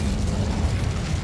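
An Incendio fire spell in Hogwarts Legacy erupts as a dense, loud, roaring burst that sustains through the moment, up close with no voices.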